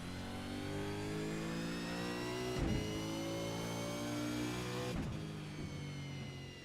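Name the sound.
race car engine on the straight at Zandvoort, from a racing video game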